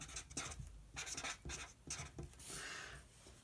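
Marker strokes scratch across paper while a hiking backpack design is sketched, a series of short rubbing bursts with brief pauses between them, close and fairly quiet, with no talking.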